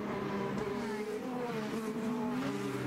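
IndyCar race cars at the 2012 Long Beach street race pass with a steady, loud engine drone whose pitch slides upward, several harmonic lines rising and falling as cars go by, continuous for about three seconds.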